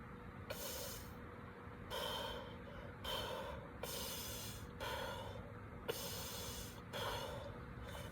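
Deep belly breathing demonstrated during a soccer fitness talk: about six strong, slow breath cycles, each a loud airy inhale or exhale lasting under a second, close to the microphone and steady in rhythm, with no talking.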